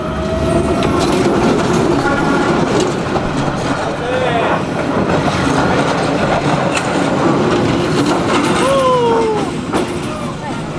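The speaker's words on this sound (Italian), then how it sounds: "siamo capitati giusto in tempo a Train Street per il famoso passaggio del treno." A train rolls slowly along Train Street in Hanoi, close and loud, with a continuous low rumble, clanking wheels and squealing tones, while people talk nearby.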